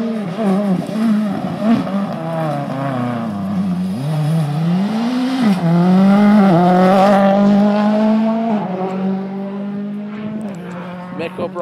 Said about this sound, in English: Didn't want that car to stall at all, so just keeping it revving nicely